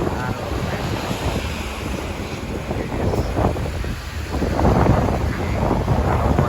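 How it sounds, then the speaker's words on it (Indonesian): Strong wind gusts batter the microphone at Merak harbour in stormy weather, a loud, continuous roar that swells and surges throughout. "Anginnya sangat kenceng kali kan. Kalian bisa dengar."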